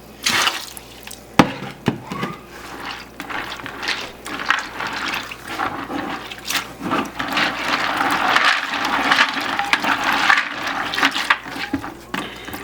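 Water poured over grain pellets for growing enoki mushrooms, splashing and trickling unevenly with occasional clunks of the container, close and fairly loud, with no talking.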